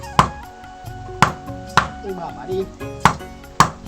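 Banana stem is chopped with a knife on a hard surface, giving five sharp, close chops at an uneven pace with softer handling noises between them.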